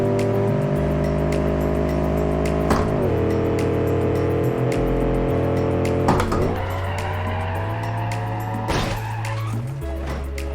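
A big block engine car in BeamNG.drive revs hard and loud, its steady, rich engine roar stepping up and down through gear changes, with occasional tire squeals over a constant close drone.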